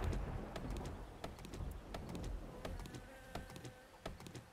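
Faint insect buzzing drones around beehives in the survival video game 7 Days to Die, low and steady over quiet ambience, with scattered soft clicks and ticks.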